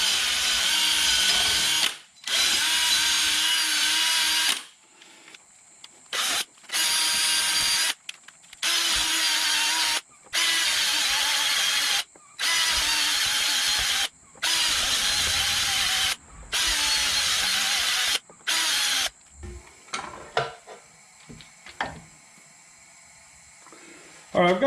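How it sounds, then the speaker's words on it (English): A small rotary wire brush on a power tool scrubs a brake hub in repeated bursts of a few seconds each, loud and close, separated by short pauses, followed by softer clinks and handling noises near the end. "I'm going to take a little rotary wire brush and try to clean it up a little bit."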